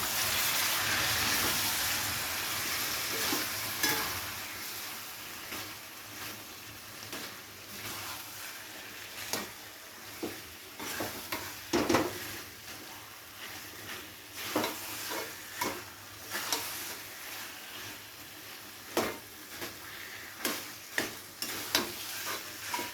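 Potatoes with spices and a splash of water being stir-fried in a pan for Bengali aloo ghati, with a soft background sizzle under repeated scraping strokes of a spatula that grow more frequent toward the end.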